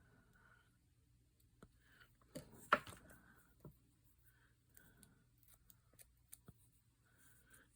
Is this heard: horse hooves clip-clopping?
no